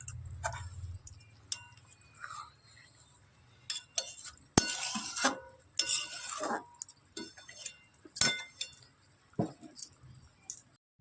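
A pot of fish curry is covered with a lid on a kitchen stove, bringing sharp metallic clinks and rattles in short irregular bursts, close and fairly quiet, with brief gaps of near silence between them.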